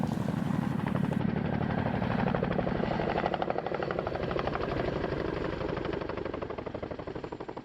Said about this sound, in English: Saunder signalled and the helicopter soared away.